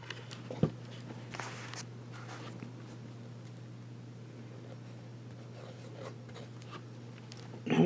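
A Sheaffer fountain pen with a fine nib scratches across paper in faint, intermittent strokes, close and quiet over a steady low hum.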